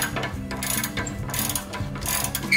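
A ratchet loosening the 13mm clamp bolt on a Mustang GT exhaust during an axle-back install, heard as steady rapid clicking strokes up close, with short pauses between bursts and no talk.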